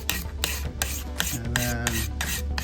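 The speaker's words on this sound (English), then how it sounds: "Probably run my file over this whole thing just to make sure this is nice and flat." A hand file scrapes over stainless steel automotive trim in quick, rhythmic back-and-forth strokes, harsh and close, about six passes with no talking.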